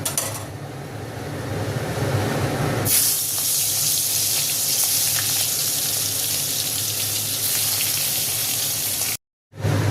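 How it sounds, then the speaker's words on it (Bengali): An ilish fish head frying in a pan gives a loud, steady hiss, with a sharp flare of sizzle about three seconds in that keeps going, then cuts off briefly near the end. "আগে মুড়োটা ভেজে নেবো"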